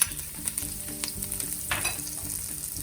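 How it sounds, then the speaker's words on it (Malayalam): Garlic sautés in a pan for Kerala beef fry, giving a steady, close sizzle broken by occasional stirring scrapes, with no one speaking. "അതിനകത്ത് നമുക്കിതൊന്ന് കുറച്ച് ഐറ്റംസും കൂടി ഇട്ടൊന്ന് വഴറ്റിയെടുക്കാനുണ്ട്. ഇനി ഇതിലേക്ക് ഒരു 2 വെളുത്തുള്ളി,"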